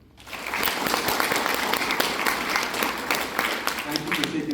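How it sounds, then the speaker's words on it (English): Crowd applause for the family members attending an Army AIT graduation ceremony at Fort Lee, Virginia, a steady broad wash of clapping that swells in quickly and holds for several seconds. "So let's give them a round of applause."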